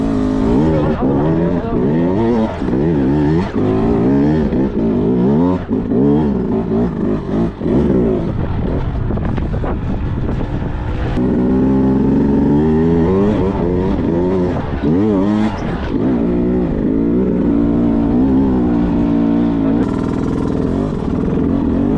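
A Beta 200 racing motorcycle, a 200cc two-stroke dirt bike, is ridden hard off-road, its engine revving and rising and falling in pitch through gear changes, loud and continuous throughout.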